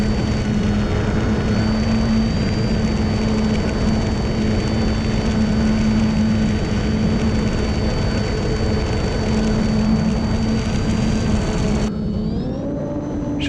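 A small RC airplane carrying two cameras drones loudly and steadily at full throttle, a constant high-pitched motor and propeller whine close to the microphone that drops away abruptly near the end.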